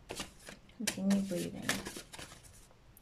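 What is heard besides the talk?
shuffling tarot cards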